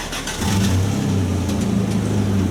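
A small Chinese Chery car's engine revs steadily at close range as it backs out, a continuous mid-pitched hum with no voices.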